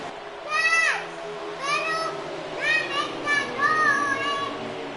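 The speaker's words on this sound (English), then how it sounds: "you can hear my kids trying to spectate in the background" Children playing and talking in the background of a room, high excited voices rising in several bursts over a steady hum, moderately distant and continuous.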